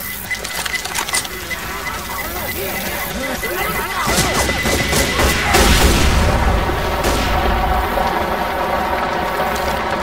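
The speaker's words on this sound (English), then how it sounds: "Pipe bomb out!" A pipe bomb explodes in the zombie shooter Left 4 Dead 2, a loud, dense roar of game noise swelling into a booming blast midway and staying heavy, with player voices mixed in.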